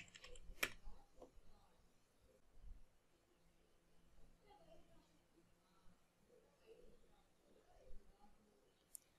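Computer keyboard typing, faint scattered key clicks at close range under a quiet voice talking.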